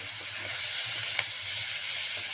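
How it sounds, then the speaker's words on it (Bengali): Shrimp dropped into hot oil already used for frying potatoes, giving a loud, steady, close sizzle that runs unbroken, with no talk over it. "দিয়ে দিচ্ছি তেলের মধ্যে চিংড়ি মাছ।"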